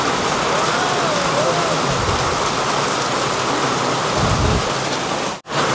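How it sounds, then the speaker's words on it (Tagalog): Heavy rain falling in the pine-covered mountain city of Baguio, a dense, steady roar that stays loud and unbroken throughout, with a brief dropout near the end. "Nagpapatila lang ng ulan."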